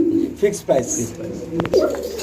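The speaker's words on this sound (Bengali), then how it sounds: "দর্শক আমরা এই মুহূর্তে দেখতে পাচ্ছি এখানে একজোড়া বোম্বাই কবুতর আছে" A pair of Bombay pigeons coo in short, soft, low bursts at a pigeon farm, close by, with someone talking over them.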